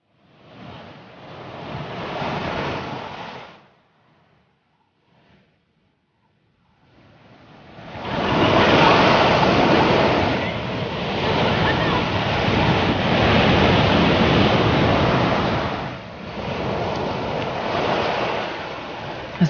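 Loud, steady surf of sea waves breaking on a sandy beach, a short roll of surf, then a near-silent lull, then continuous heavy washing waves with wind rush.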